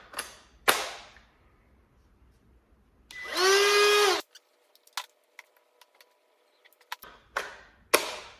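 A Ryobi One cordless palm router trimming a badly warped pallet wood board: about a second of high, whining motor spin, framed by close clattering knocks and handling clicks.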